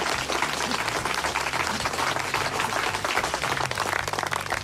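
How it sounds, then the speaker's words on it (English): An audience applauding for a performer called Music Man, dense sustained clapping from many hands filling the room, steady and loud throughout. "If we could have a round of applause for Music Man"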